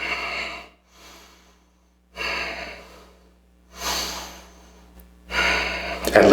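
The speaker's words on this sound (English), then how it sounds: "And remember to breathe." Steady breathing during a held yoga stretch, four slow breathy exhalations spaced about every one and a half seconds, close and fairly clear, with quiet pauses between them.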